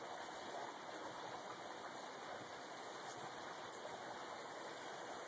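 A pet bird bathes in water, producing a faint, continuous watery rush and splashing, steady and fairly distant, with no voices present.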